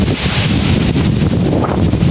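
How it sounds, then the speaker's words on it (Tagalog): Strong wind roars steadily and loudly across the microphone outdoors near a nipa hut, a constant buffeting rush with rustling underneath and no pause. "Lakas-lakas ang hangin mga kabel."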